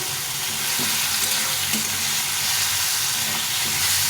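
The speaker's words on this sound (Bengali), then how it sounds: "এই টমেটোটা ভালো করে ভেজে নিতে হবে একটু" Tomatoes with salt frying in a pan give a steady, close sizzle with soft stirring scrapes, continuous and fairly loud throughout.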